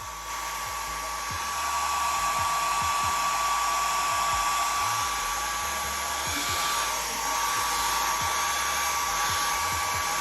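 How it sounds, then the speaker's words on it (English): Household hair dryer running on its low setting inside a van, a steady loud whooshing fan roar with a constant electrical whine, starting up and holding unchanged throughout. "just a household hair dryer, and I'm about to turn it on to low first"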